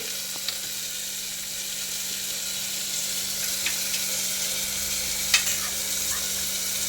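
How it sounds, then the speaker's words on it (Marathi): Onion and tomato are sautéed in a pan for Solapuri masala rice, giving a steady soft sizzle with occasional faint spatula taps and one sharper clink, no voices. "अजून थोडा वेळ परतून घ्यायचं आहे."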